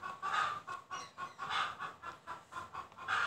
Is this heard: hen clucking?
yes